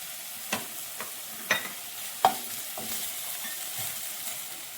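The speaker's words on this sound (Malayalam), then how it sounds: "അതിലേക്ക് ഒരു പച്ചമുളക് ചെറുതായിട്ട് അരിഞ്ഞത്" Chopped green chili frying in olive oil in a pan, a steady soft sizzle broken by a few sharp stirring scrapes and taps.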